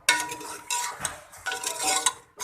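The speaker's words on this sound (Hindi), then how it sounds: "अब इसको अदरक लहसुन के साथ भी हम भूनेंगे इसी तरह से।" Ginger-garlic paste is stir-fried with beef for nalli nihari, a metal spoon scraping and clattering against the pot in bursts over a low sizzle, close and fairly loud with no voices.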